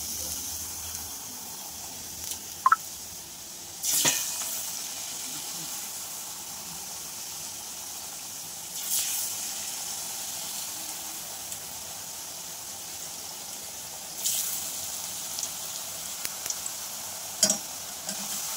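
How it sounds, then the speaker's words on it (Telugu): Chekalu, flat rice crackers, fry in hot oil with a steady soft sizzle. Occasional louder bursts and clinks break in as pieces are added or turned. "వీటిని ఇప్పుడు తీసి ఆయిల్లో ఇట్లా వేసి కాల్చుకోవాలి"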